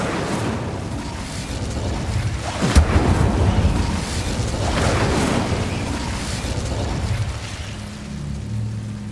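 In Hogwarts Legacy, casting the Incendio fire spell sets off a sharp booming burst, followed by a rolling, whooshing roar of flames that swells and fades over several seconds amid other game sounds.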